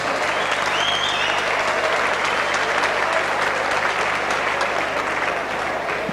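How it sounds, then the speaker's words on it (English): Applause for women boxers after a fight at a boxing event, a steady loud burst of crowd clapping that fills the whole stretch with only slight fading near the end. "how about giving the ladies a big round of applause?"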